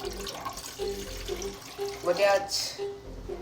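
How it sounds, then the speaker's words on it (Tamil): Tap water pours into a pot for cooking noodles, a moderate splashing stream heard up close with a person talking over it. "இப்போ நம்ம அப்படியே தண்ணியை ஊற்றிடலாம்."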